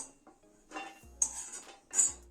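Metal utensils clink against a pan and plate as dry-roasted dried coconut is moved onto a plate, with a few close, sharp scrapes and taps separated by short quiet gaps.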